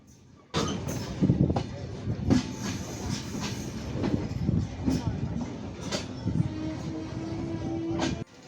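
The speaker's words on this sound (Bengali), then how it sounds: "ধূমকেতু এক্সপ্রেস ট্রেন ঈশ্বরদী বাইপাস নামিয়ে দিয়ে চলে যাচ্ছে" The Dhumketu Express train rumbles past close by as it leaves Ishwardi bypass station, with rhythmic clattering of wheels over rail joints and occasional squeals, steady and loud for several seconds.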